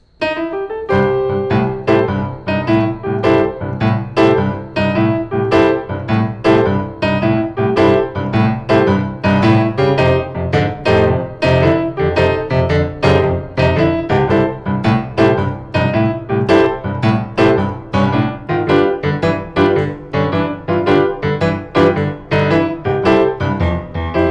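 A lively boogie woogie piano riff plays continuously, a rolling bass figure under bright repeated chords, steady and loud throughout.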